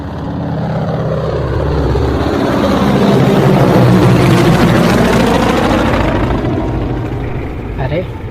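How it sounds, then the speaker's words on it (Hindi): A steady low rotor-and-engine drone swells and holds for several seconds, with a voice speaking over it. "ये तो हेलीकॉप्टर की आवाज़ है।"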